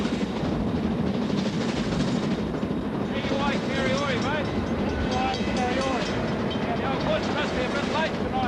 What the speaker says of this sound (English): Now the train was on a downhill run, steaming towards the railway bridge